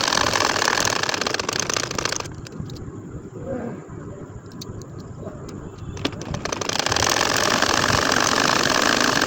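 A sewing machine motor whirs loudly and steadily while stitching a baby kantha quilt, drops to a quieter hum for several seconds midway, then surges back to full running speed.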